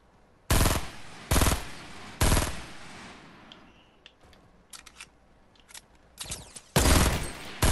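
Fortnite gunfire in a squad match: three loud, sharp bursts of shots at a steady pace, then scattered fainter pops, then two more heavy bursts close by.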